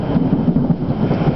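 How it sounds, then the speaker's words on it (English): Rain falling steadily during an evening thunderstorm, a dense, even wash of drops with low rumbling underneath, close by and continuous with no voices. "Is it hailing or is this just rain?"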